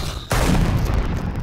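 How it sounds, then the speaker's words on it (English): A flashbang goes off in the video game Valorant with a sudden loud blast that becomes a sustained, roaring, ringing wash of noise. "Flashbang."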